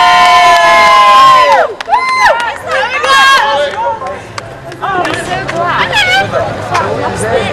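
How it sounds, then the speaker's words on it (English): A crowd outdoors at a 2007 bonfire night cheers and shouts loudly, with excited voices, children's yells and babble rising and falling, and a few people talking close by. "give him a round of applause,"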